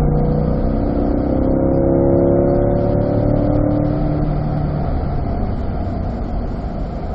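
A Corvette accelerating hard out of a long right-hand corner on the Spring Mountain race track, engine droning loud and close with rising tones as speed builds, then settling into a steady roar.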